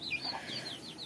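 Chickens in a coop give soft, scattered clucks and chirps, faint and close, over a quiet background with no talking.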